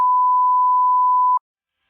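A phone gives a single steady electronic beep, a clean tone lasting just over a second and then stopping abruptly into silence.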